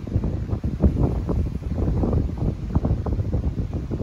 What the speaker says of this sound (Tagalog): Kanindot sa huni no sa hangin nagisangga sa mga dahon sa kahoy, mga sanga sa kahoy